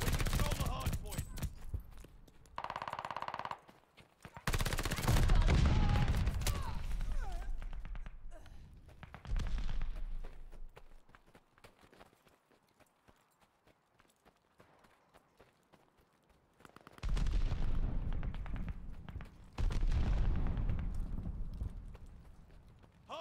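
Bursts of gunfire in Call of Duty Vanguard multiplayer on a hardpoint match, loud volleys in a few clusters separated by quieter stretches with footsteps and game announcer voices.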